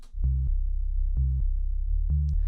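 Three rounded, dull sub-bass notes from Synth1 without a wave shaper pulse in an even rhythm over a steady low hum, loud and clean with few overtones and no voices.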